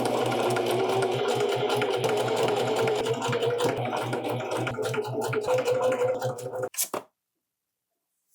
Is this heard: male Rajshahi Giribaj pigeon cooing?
no